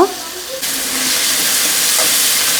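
Two kilograms of chicken drops into a hot pan with tomatoes, kicking off a loud, steady hiss of frying that swells suddenly and holds unbroken.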